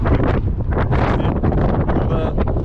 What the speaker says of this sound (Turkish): Bayağı bir rüzgar var